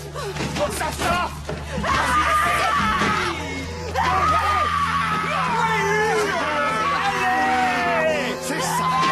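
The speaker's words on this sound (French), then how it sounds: "Vas-y, crie, hurle. Laisse sortir ta colère. Hurle ta colère," A person yells and screams in anger, loud and sustained, with a crowd-like murmur and steady low hum underneath.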